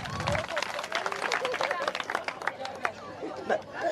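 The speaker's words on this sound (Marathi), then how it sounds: "जोरदार टाळ्या होऊन जाऊ द्या" Audience applause with clapping and lively chatter at a women's empowerment community event in Sai Ambika Nagar, Shirdi; the dense, close clapping runs steadily throughout.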